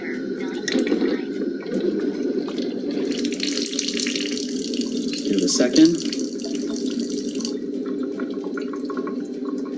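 Water runs steadily from a kitchen sink tap for several seconds, a continuous splashing rush with a brief voice over it.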